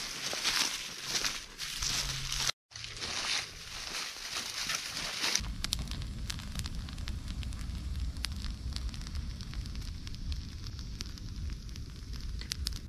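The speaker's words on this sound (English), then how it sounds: "All right, we got the campfire going." A campfire of burning firewood crackles and sizzles with scattered sharp pops over a steady low rush, fairly close and with no one talking.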